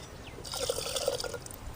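Water poured into a pot of cowpea curry while cooking at home, a soft, faint trickle lasting about a second over a quiet kitchen background.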